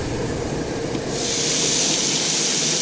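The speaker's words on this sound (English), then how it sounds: "I see a lot of steam coming from this pan right now." Steady broadband hiss of steam rising from a hot pan of deer meatball subs fresh out of the oven, a continuous rushing sound that grows brighter and louder about midway, with no talking.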